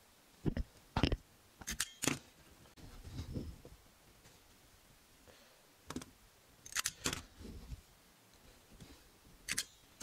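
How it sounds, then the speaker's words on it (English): Series of sharp mechanical clacks from a stapler driving staples into upholstery fabric for a cushion, arriving singly and in quick pairs at close range against a quiet room background, with a soft rustle of handled fabric in between. "what I'm just doing is using my stapler."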